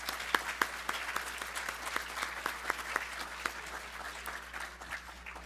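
An audience at a workforce event applauds award winners, a steady run of close, even clapping that thins out toward the end.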